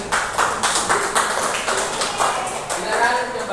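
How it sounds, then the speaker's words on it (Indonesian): Applause from a small group in a classroom, a steady patter of close hand claps with a loose rhythm lasting several seconds, with voices mixed in. "Tepuk tangan."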